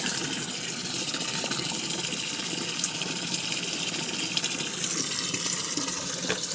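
Water pours steadily from a tap into a container at a rural home, a continuous splashing gush with a few faint clicks and knocks, close by and without talk.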